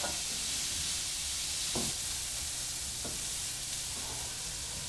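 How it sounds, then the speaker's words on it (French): Carrots caramelize in a pot for spaghetti sauce, a steady sizzle running close and even throughout, with a few soft stirring scrapes and no voices. "Et évidemment, on fait caraméliser nos carottes encore."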